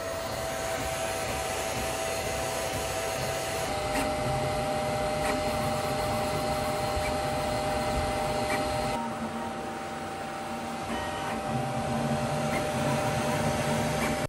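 A QIDI Q1 Pro 3D printer runs a print job, giving a steady, loud whir of fans and motors with faint stepper tones and small clicks throughout.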